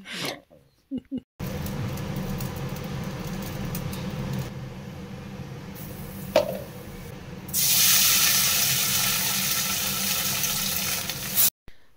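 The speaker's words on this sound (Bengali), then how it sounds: "আর একবার বেগুন এখন ভাজতে দিলাম" Pieces of eggplant frying in a pan of oil, a steady, close sizzle that runs for several seconds, briefly interrupted by clatter, then growing louder and hissier toward the end; someone talks quietly under it.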